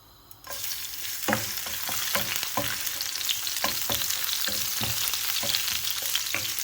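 Garlic sizzles in hot oil as a tempering for tangra fish curry, with a constant close frying hiss and repeated scraping stirs against the pan.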